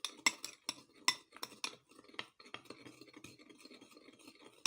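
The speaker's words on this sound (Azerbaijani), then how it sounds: "Bunu yaxşı-yaxşı qarışdırıram. Tamam, tərkibi mayi halına düşənə kimi qarışdırıram." A spoon stirs a paste of baking soda, lemon juice and toothpaste in a dish, making quiet, close scraping and clinking strokes in an uneven rhythm with short gaps between them.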